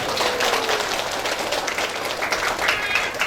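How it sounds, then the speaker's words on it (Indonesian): An audience at a lively religious lecture breaks into applause, a dense wash of clapping that holds steady throughout, fairly close and loud. "Tepuk tangan untuk geraha rancamannya"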